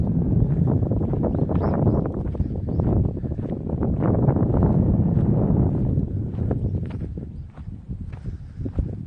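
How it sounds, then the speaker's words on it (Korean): Wind rushes hard across the mountain observatory at Gubongsan, buffeting the microphone in a continuous low roar with uneven gusts, loud and close throughout. "바람 부는 소리 봐."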